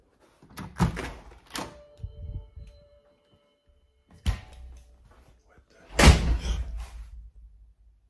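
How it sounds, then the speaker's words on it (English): A door in a house slams shut several times, sharp close thuds with a heavy final bang, separated by quiet gaps. "Somebody just shut the door again."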